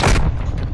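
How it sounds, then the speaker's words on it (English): A friendly mortar strike explodes in Call of Duty: Modern Warfare II, a loud, heavy boom that rolls on as a low rumble and fades over under a second. "Friendly mortar strike on the way."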